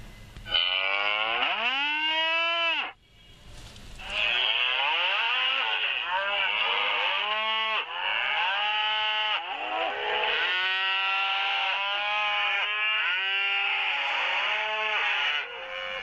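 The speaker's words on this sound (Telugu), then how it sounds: "దాన్ని టచ్ చేసామనుకోండి ఆవు ఒక సౌండ్ వస్తుంటుంది, పక్షుల సౌండ్ వస్తూ ఉంటుంది" An educational talking flute plays electronic animal sounds: a series of bending, tonal cow-like moos and bird calls that follow one another almost without a break, loud and close, with no voices.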